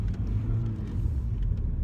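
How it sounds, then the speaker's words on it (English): A car engine revs hard under a missed manual gear shift, a steady low rumble with a flaring roar that holds loud and close for about two seconds, no voices. "Wow, somebody missed a shift there."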